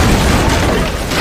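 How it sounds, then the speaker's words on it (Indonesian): A bomb explodes in the film Godzilla Minus One, a loud, dense, rumbling blast that fills the whole moment and cuts off abruptly, with no voices. "Shikishima menembak bom yang berada tepat di dalam mulut Godzilla dan boom."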